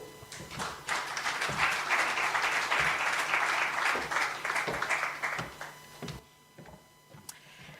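Audience applause following a speech at a youth event, a dense wash of clapping that holds steady for several seconds, then thins into a few scattered claps before quiet.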